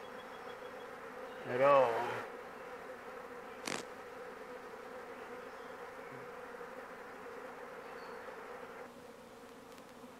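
A swarm of honey bees hums steadily as it is called down low enough to reach, with a sharp click partway through and a voice briefly audible over the buzzing.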